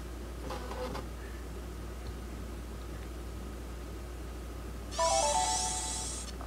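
A Sony Vaio TX laptop powering on: a steady fan hiss, a short tonal beep cluster near the start, then a brighter chime-like startup tone swelling near the end, all fairly quiet and close.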